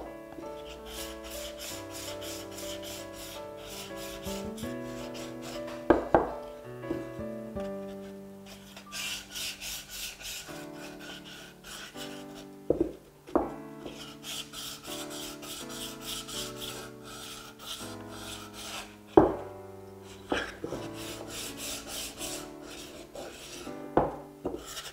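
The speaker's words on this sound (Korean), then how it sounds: "그러면 위쪽 아래쪽 4면을 모두 사포질 하겠습니다." Sandpaper rubbing back and forth along the edges of a wooden workpiece, close and quiet, with steady rasping strokes broken by a few sharp knocks of wood being handled.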